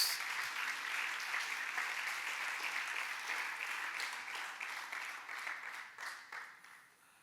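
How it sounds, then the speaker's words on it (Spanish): A church congregation claps during a worship service, a full sustained round of applause that gradually thins and fades out toward the end. "Denle un buen aplauso a Jesús."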